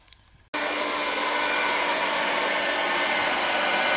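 Hot air gun heating wood on a bow stave, switching on abruptly after a moment of quiet and then blowing as a loud, steady, close roar that keeps running unbroken.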